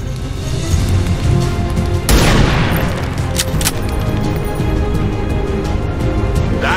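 Weapon fire in the video game XCOM 2 crashes out in a loud burst of booming shots, with a heavy blast partway through and further sharp reports trailing after over a dense game soundscape.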